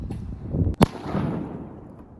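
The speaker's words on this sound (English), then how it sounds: "So here's these final explosions." A single sharp, loud bang from a small pyrotechnic charge on a scale model cracks out, followed by a low rumbling tail.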